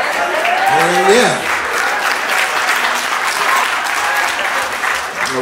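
A comedy club audience claps loudly through a live crowd-work set, continuous dense applause with a voice calling out over it near the start.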